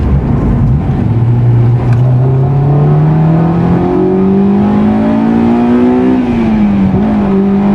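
A 2003 Honda S2000 engine revs high while cornering, a loud, steady rising tone that climbs toward high RPM, dips briefly, then holds near the end, with no talking over it.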